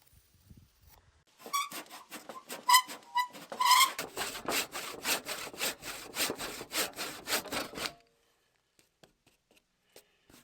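Wooden rafters for a lean-to shed roof are cut with a hand saw: quick, loud rhythmic rasping strokes for several seconds that stop abruptly, leaving near silence.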